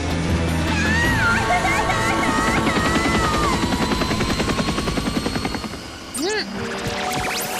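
A cartoon helicopter's rotor chop thumps rhythmically beneath loud voices and bright music, swelling and then fading near the end.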